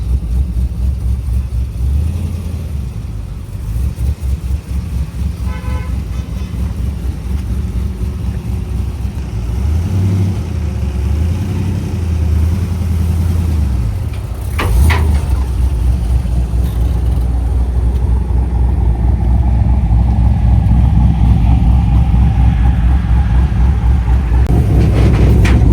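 A car engine running as the car arrives and drives up, a steady loud drone that swells and grows heavier toward the end, with no talk over it.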